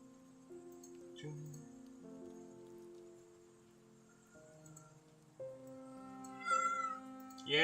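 A domestic cat meows a few times indoors, short calls set against a soft steady tonal background.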